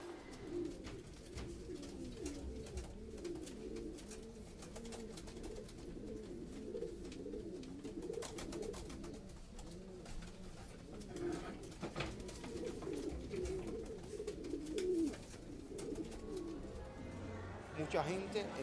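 Pigeons coo continuously in a crowded park in Havana, a dense overlapping burble of soft throaty calls, fairly faint and steady throughout.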